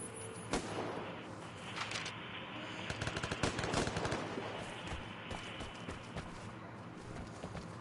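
Gunfire in a shooter game: rapid bursts of sharp, crackling shots, clustered densely in the middle and sparser toward the end, heard at a moderate distance under a steady ambient background.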